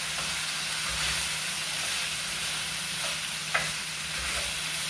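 Squash, onion and garlic saute in a frying pan with a steady, close hiss and sizzle, broken by a few soft stirring scrapes, and no one speaks.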